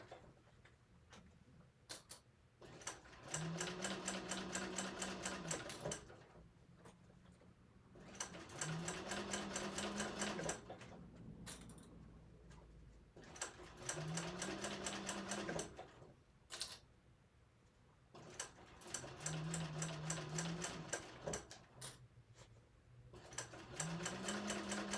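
Sewing machine stitching a small bowler bag in a class, running in steady rapid bursts of several seconds each, separated by brief pauses, close and clear with no voices.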